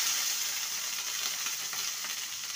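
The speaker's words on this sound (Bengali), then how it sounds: "ভালো করে সবজিগুলোকে ভেজে নেব।" Carrots and beans fry in a spice tempering with a steady, close sizzle and crackle that holds evenly throughout, with no talking over it.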